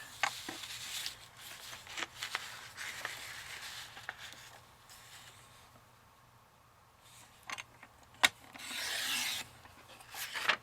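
Paper is cut down from a 12-inch sheet to 7 3/4 inches for a journal. Up close, soft scraping and rubbing strokes come in short bursts, with a few sharp taps and a longer slicing rasp near the end.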